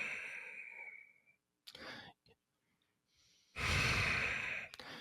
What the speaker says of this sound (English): Sometimes it's referred to as ocean breath because we kind of hear the waves rolling into the ocean.